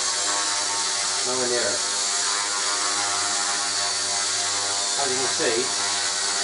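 A WL Toys V950 RC helicopter's rotor and motor run at part throttle with a steady, high-pitched whine and buzz, held at a constant level while someone talks over it.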